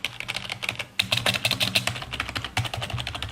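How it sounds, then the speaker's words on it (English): Rapid, close clicking of keys on a Corsair membrane computer keyboard, a dense, slightly muffled clatter with a brief pause near the one-second mark. "So it's membrane switches, it's not mechanical, so it sounds a little bit different from most like high-end keyboards"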